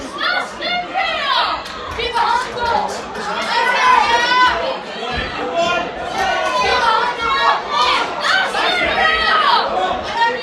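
Crowd at a boxing club home show, a lively hall of overlapping chatter with children's voices and raised calls, loud and continuous throughout.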